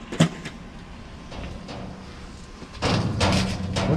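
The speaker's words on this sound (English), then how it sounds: "The wind is blowing that door around like crazy over there." A loose door outdoors knocks and bangs in strong wind, with one sharp close thump near the start, fainter knocks after it, and a louder cluster of rattling bangs toward the end over windy background noise.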